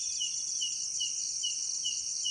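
Crickets chirp steadily at night on a nighttime outdoor walk, a continuous high shrill trill with regular pulsing repeats, fairly loud and close, with no talk over it.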